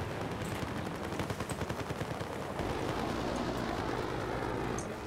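Rapid automatic gunfire rattles in a first-person shooter video game: dense, fast bursts of shots that run steadily for several seconds at moderate distance, with no talk over them.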